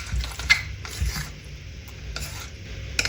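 Hands work dough with an onion and coriander filling, making soft squelching and scraping strokes in a few irregular bursts, close and fairly quiet, with no talking.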